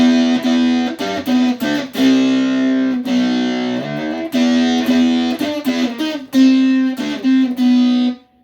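Fast, distorted electric guitar riff from a song's chorus, with notes on the 4th and 3rd strings ringing together, played in quick repeated bursts with brief gaps.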